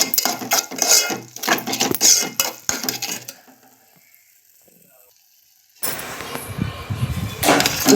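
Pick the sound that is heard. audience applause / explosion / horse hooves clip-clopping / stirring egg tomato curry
stirring egg tomato curry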